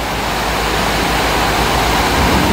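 Heavy rain pours down steadily around a bus, a loud, dense, unbroken hiss with no voices.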